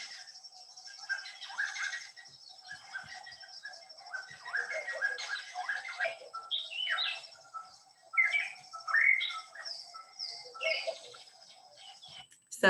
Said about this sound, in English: So I've got meerkats purring and insects chirping.